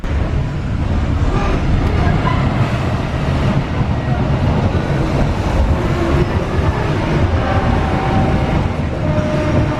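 The Argo Sindoro train passes on track 7 at a station, making a loud, continuous rumble and rush of rolling wheels that stays steady and close for the whole stretch.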